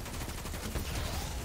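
Auto rifle in Destiny 2 firing a continuous rapid burst of gunfire, a dense rattling stream that stays fairly quiet and steady throughout.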